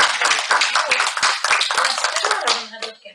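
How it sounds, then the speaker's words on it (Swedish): Audience applause after a talk on faith and space research, a few seconds of close, steady clapping from a modest crowd that thins out toward the end. "vi ger en applåd"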